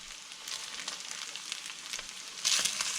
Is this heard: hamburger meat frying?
yes